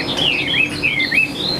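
A Chinese hwamei songbird sings a continuous run of clear, warbling whistled phrases that rise and fall, close and fairly loud, with no talk over it.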